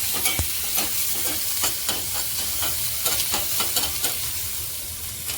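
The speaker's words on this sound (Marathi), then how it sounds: "आता कांदा चांगला आपल्याला भाजून घ्यायचा आहे गुलाबी रंगावर करून घ्यायचा आहे" Chopped onion frying in oil in a pan, a steady close sizzle with irregular light scrapes and taps of a spatula stirring throughout.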